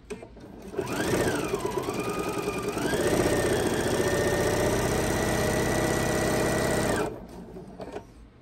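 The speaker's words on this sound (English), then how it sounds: "I'm going to sew 1/4 of an inch all the way until I get to the next end." A sewing machine runs steadily and close up, stitching a quarter-inch seam along machine-sewn quilt binding, with a whirring motor hum that starts, holds for about six seconds, then stops.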